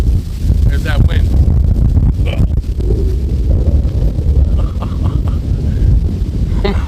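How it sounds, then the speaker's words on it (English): Strong wind blows outdoors on a disc golf course, buffeting the microphone with a loud, continuous low roar that swells and eases slightly but never stops. "There's that wind."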